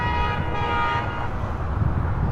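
A loud train horn blares for about a second near LAX airport, then cuts off and leaves wind and rumbling background noise.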